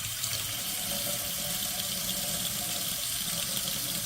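A kitchen tap runs as hot as possible, water splashing into a sink in a continuous, even rush with no talking.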